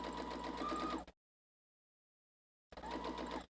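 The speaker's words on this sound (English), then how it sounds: "And we're going to sew." Sewing machine stitching quilt fabric pieces with a quarter-inch seam, a close mechanical whirring in two short bursts separated by about a second and a half of silence.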